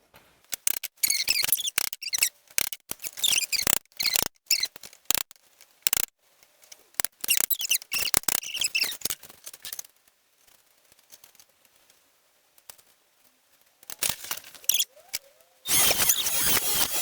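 Pliers force a small nail through a coffee can lid: a rapid series of sharp metallic clicks and scrapes in uneven bursts, close up, with pauses of near silence between and a louder rough rustle at the end.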